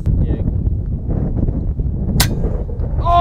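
.25 caliber air rifle fired at a prairie dog outdoors: a single sharp, short crack cuts through steady gusting wind noise.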